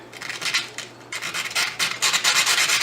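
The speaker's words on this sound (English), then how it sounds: "all I'm using is just a block of wood and the sandpaper" A small screw being hand-sanded with sandpaper wrapped on a wooden block, heard as close, repeated dry rasping strokes in an uneven back-and-forth rhythm.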